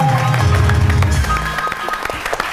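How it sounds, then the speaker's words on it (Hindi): Applause for the film cast at an Eid celebration event, loud dense clapping from a crowd that fades somewhat toward the end, with voices mixed in underneath. "तालियां हो जाए हमारी कास्ट की"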